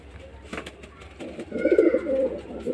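Throaty cooing from a male Kaldum pigeon swells near the end of the stretch after a quieter start, with soft background rustle and clicks.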